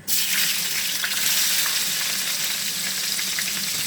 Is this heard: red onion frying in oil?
yes